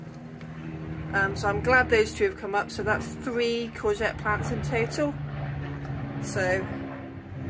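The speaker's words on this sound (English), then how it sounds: "Please excuse the helicopter." A helicopter passes over a garden with a low, steady droning hum that stays faint beneath a person talking throughout.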